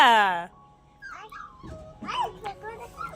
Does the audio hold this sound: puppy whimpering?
yes